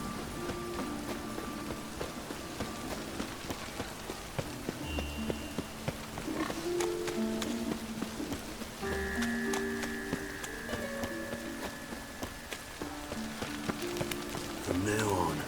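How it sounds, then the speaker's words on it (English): Steady rain patters over a Witcher 3 game scene, a continuous wash of drops running beneath game music and occasional spoken dialogue. "Rain again."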